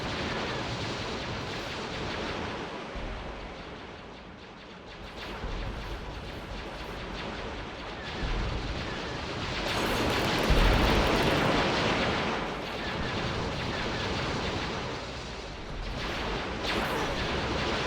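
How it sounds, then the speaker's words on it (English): Starship batteries firing in the Star Wars: Ascendancy mod of Sins of a Solar Empire, a dense continuous roar of space-battle weapon blasts and rumbling explosions with swelling louder bursts throughout. "All batteries open fire"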